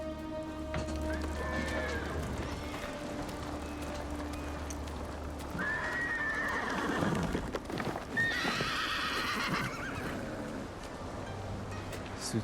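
A horse in the video game Ghost of Tsushima whinnies loudly over steady clip-clop hooves and a low droning background, with a second shrill neigh near the end.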